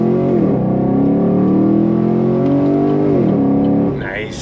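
A 2017 Chevrolet SS V8 sedan accelerates hard, its engine drone climbing through the revs, dropping at a gear change, then rising again before easing off, loud and close from inside the car.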